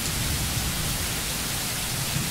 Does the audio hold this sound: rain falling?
yes